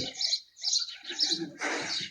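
Racing pigeons at a pigeon club on race day give several quick chirps and soft coos, close and clear, ending in a short burst of wing flutter.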